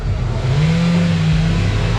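Honda Civic engine revving hard at a car meet, a sustained loud low-pitched drone with a rising tone and possible turbo spool, steady and close throughout.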